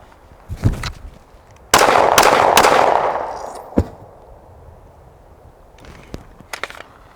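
Three gunshots are fired at a body armor vest, sharp loud cracks with a sustained roaring burst in between, followed by quieter clanks and footsteps.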